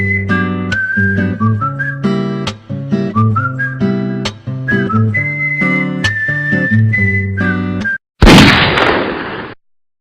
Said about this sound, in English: This music is so damn unfitting and mind-numbing.